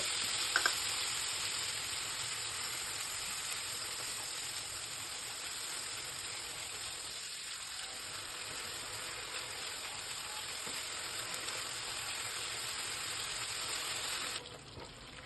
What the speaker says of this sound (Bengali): পেঁয়াজটা ভাজা ভাজা হয়ে গেলে ওতে আদা আর কাঁচা লঙ্কা দিয়ে দেব।